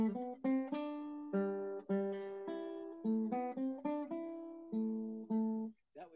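A short Bach minuet phrase played as melody over a bass line in strict imitation, a clear pitched instrument stating steady, evenly detached notes close up with no talking.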